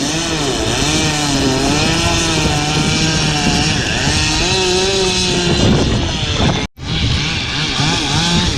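A chainsaw engine roars steadily, its pitch rising and falling as it bogs and revs through a walnut log, with one brief dropout near the end.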